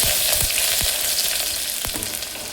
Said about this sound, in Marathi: मी इथं कांदा ॲड करून घेते. त्याला फिरवून घेऊ.